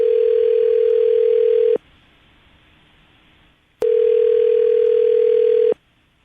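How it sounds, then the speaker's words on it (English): Telephone line tone sounding in two long steady beeps, each about two seconds with a gap of quiet hiss between, clear and close on the line while a phone number is dialed. "I'm going to dial the phone number right now"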